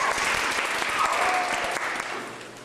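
Strong, dense audience applause follows a performance at a Toronto wish event, loud and full at first and then gradually thinning and fading toward the end.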